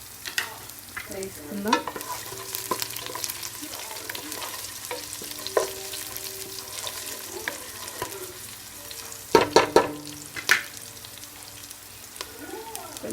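Cinnamon, cardamom and cloves frying and being stirred in a pan for egg biryani: steady oil sizzle with clattering spoon scrapes, a burst of louder stirring near the end, and a voice speaking briefly.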